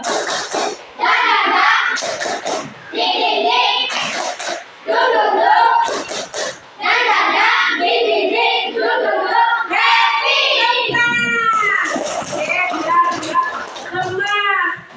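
Schoolchildren play a rhythmic clapping game, chanting loudly together with repeated bursts of hand claps, and an adult voice joins in toward the end.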